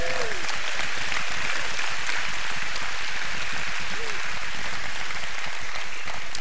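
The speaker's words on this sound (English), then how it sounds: "Come on, let's give the Lord a clap." A church congregation at a gospel meeting breaks into sustained, dense applause that stays loud and even throughout, with a few faint voices mixed into the clapping.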